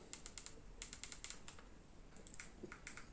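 Quiet, quick keystrokes tap out an email address on a keyboard to register a Strong SRT41 Google TV 4K stick, a rapid irregular clicking in short bursts, close with no talk.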